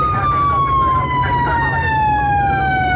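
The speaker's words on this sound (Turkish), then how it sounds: "aç oğlum sirenleri, aç" A loud police siren wails nearby, its tone sliding steadily downward, with engine rumble underneath.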